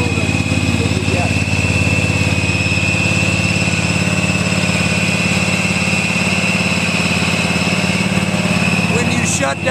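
A fire brush rig's pump engine runs steadily at throttle, a loud continuous low drone with a constant whine above it, unbroken for the whole stretch, with a faint voice beneath it.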